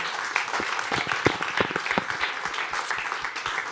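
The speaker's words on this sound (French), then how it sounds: "Applaudissements." Studio audience on a Swiss TV comedy talent show bursts into sustained applause, dense clapping steady throughout and fairly loud with a few brief voices mixed in.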